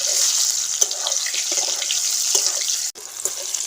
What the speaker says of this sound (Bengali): পনিরের টুকরোগুলোকে আমি ভেজে নিচ্ছি দুবারে ভেজে নেব পনিরগুলোকে